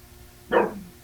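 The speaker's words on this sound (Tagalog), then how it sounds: "Kanina pa yung tahol ng tahol" One single dog bark sounds once, fairly close and clear, against a quiet background.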